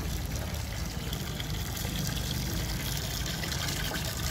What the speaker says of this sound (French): voilà comment l'eau sort, n'est-ce pas